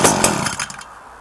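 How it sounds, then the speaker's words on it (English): Echo SRM-2015 string trimmer's small two-stroke engine revving hard at full throttle on a very cold start with choke on, loud and close, a continuous buzzing whine that eases slightly toward the end. "I'm going to hold the throttle down and see what it does."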